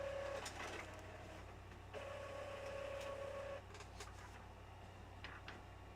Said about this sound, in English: I don't know what is going on with that stupid printer.